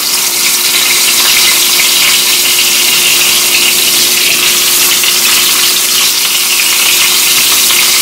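A thick cut of ahi tuna sears in a hot pan, giving a loud, steady, dense sizzle that holds unbroken throughout with no talking.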